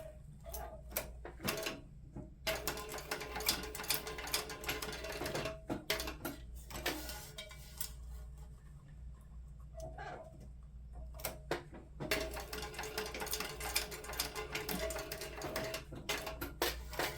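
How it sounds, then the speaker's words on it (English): A sewing machine stitches down the side of a zipper on a handbag in rapid mechanical bursts separated by short pauses, close and fairly quiet, with no talking. "We need to stitch down the side of our zipper to secure those in place."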